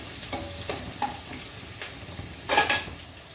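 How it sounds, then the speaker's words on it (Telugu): Tempering sizzles in hot oil in a pan over low heat, a steady fry hiss broken by a few sharp stirring clinks, with one louder burst of spatter and scraping near the end. "నూనె వేడెక్కింది కదా సిమ్లో పెట్టుకుందాము తాలింపు అయ్యేదాకా సిమ్లో పెట్టేద్దాం"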